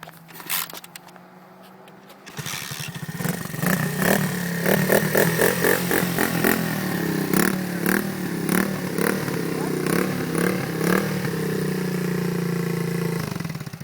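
Dirt bike engine before a race, starting after a quiet moment and then blipping in rapid revving pulses before settling into a loud, close idle, with voices faintly underneath.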